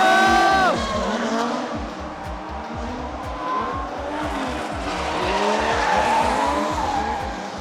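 Several cars drift in tandem trains at Ebisu Circuit, engines revving loud and close with sustained tire squeal and skidding throughout, the roar rising and falling as they sweep past.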